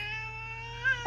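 A cat gives one long, drawn-out, whining meow, close and clear, rising slightly near the end before a brief sharper sound cuts in, with no talking.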